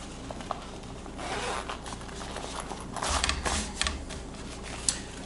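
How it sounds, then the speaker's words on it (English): Zippers on a fabric bag being pulled in short repeated zips, close and clear, with a louder burst of rustling fabric midway and a sharp click near the end. "Pull the zippers down a bit."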